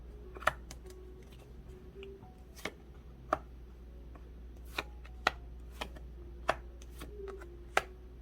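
Tarot cards are handled and flipped over on a surface, giving sparse soft taps and flicks about a dozen times against a quiet room hum, with no speech.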